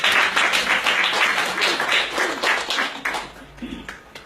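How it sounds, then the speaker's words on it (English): Audience applause at a DXN business meeting in London, a dense steady clatter of many hands clapping for several seconds that thins out toward the end. "A round of applause."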